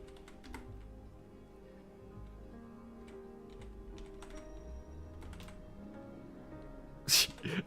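Keys tapping on a computer keyboard at a steady rhythm, faint and close, with a sharper burst near the end.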